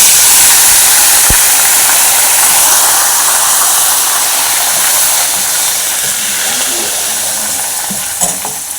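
Spices with asafoetida and curry leaves sizzle and crackle steadily in hot oil, tempering for a Telangana-style gongura pickle; a close, continuous frying hiss that fades slightly toward the end, with a few small pops.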